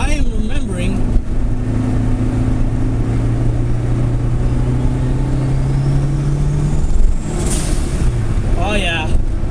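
A turbocharged Honda Civic EF drives with a slipping clutch, its engine holding a steady drone throughout while someone talks over it.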